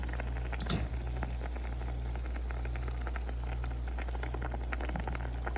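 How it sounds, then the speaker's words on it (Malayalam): A pot of curry bubbles and simmers steadily, a dense crackling patter of small bursts over a low steady hum, with no talking. "ഇവിടെ കറി തിളച്ചിട്ടുണ്ട്"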